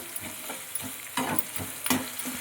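Food frying in hot oil while being stirred in a Konkan home kitchen, a constant sizzle with a few soft scraping stirs and one brief louder burst, up close with no voices.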